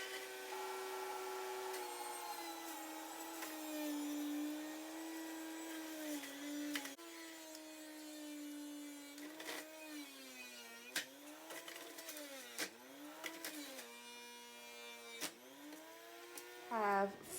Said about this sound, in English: I have been juicing